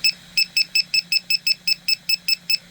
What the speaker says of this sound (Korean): 자 이렇게 삐삐 소리 나고요